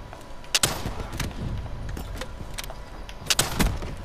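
Sniper rifle fire in Call of Duty: Black Ops 3 gun game, with two sharp, loud shots about three seconds apart over steady background game noise.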